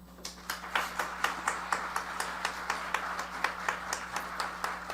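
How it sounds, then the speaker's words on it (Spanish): Sparse applause welcomes panel members at a conference on indigenous rights, with individual hand claps landing in a steady rhythm. It is quiet and thin, close to the recorder, over a low electrical hum. "Recibimos con un fuerte aplauso a las integrantes de esta mesa."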